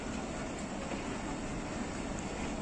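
A Rawalpindi Passenger train of Pakistan Railways runs along the tracks, giving off a faint, steady low rumble and hiss with no breaks or distinct beats.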